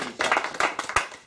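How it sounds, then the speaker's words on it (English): An audience at a children's summer reading program magic show applauds, a brief burst of scattered, moderately loud hand claps with a little voice mixed in. "let's give her a big round of applause"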